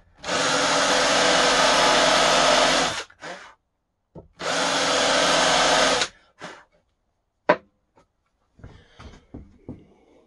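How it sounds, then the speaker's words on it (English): A power drill countersinks a screw hole in a wooden loudspeaker cabinet in two close, loud bursts of about three seconds each, followed by quieter clicks and handling knocks. "we've got quite a big screw head that's going in here, so we really need to give it quite a nice countersink"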